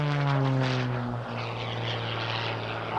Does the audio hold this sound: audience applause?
no